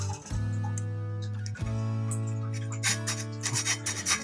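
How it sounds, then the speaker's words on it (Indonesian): A hand saw cuts a slot into a small wooden fishing lure body for wire fitting, giving short rasping strokes close up, with a few scraping bursts toward the end. "digergaji untuk pemasangan kawat"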